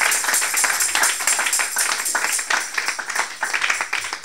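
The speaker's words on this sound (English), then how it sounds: "Give a clap of it to Jesus Christ" A church congregation claps together in praise during a worship service, a dense, steady patter of many hands that fills the room for several seconds without pause.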